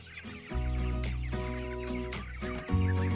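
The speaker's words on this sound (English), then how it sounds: "Here we have about 50 Cornish cross and a Joel Salatin style chicken tractor, and we are going to move them" Clucking calls from a flock of about 50 Cornish cross meat chickens housed in a Salatin-style chicken tractor on a farm, harmonic cries rising loud and close in overlapping bursts with no talk.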